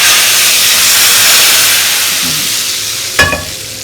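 Cumin seeds sizzle in hot oil for moong dal, a loud, dense frying hiss that holds steady and then eases, with a short clatter of a utensil near the end.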